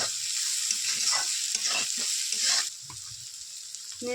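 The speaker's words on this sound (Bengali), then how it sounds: "স্বাদ মতো হলুদ দিয়ে ভালো করে নাড়াচাড়া করে নিতে হবে" Spices with salt and turmeric are stirred in a hot frying pan for an egg curry. Scraping strokes rasp over a close, steady sizzle, with no voices.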